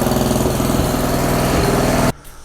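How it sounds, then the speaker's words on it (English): A Greensmaster 1000 reel mower engine runs steadily at a loud, even drone for about two seconds, then cuts off abruptly into near silence. "I'm going to start the engine and let it run for a few minutes so it gets warm"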